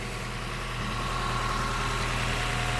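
A Honda car engine idles quietly while warming up, a steady low hum with a faint constant whine, even and continuous throughout.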